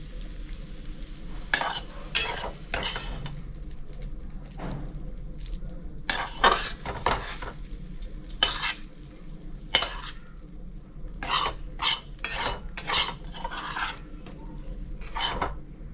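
Kolmi greens (water spinach), freshly fried, scraped from a pan onto a plate with a spatula: a run of short, brisk metallic scrapes and stirring strokes in irregular bursts over a faint steady kitchen background.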